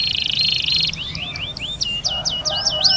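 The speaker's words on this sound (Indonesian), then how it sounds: "Agar burung kenari menjadi lebih rajin berkicau" A young pet canary singing up close and loud: a high buzzing trill, then quick repeated chirps and rapid warbling phrases over a faint background hum.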